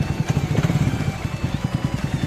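A motorcycle engine during figure-8 practice runs up close with a rapid, pulsing putter that quickens toward the end, heard without any talk.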